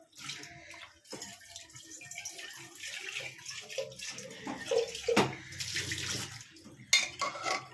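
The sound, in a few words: squeezing water out of a tea-leaf bundle over boiled chickpeas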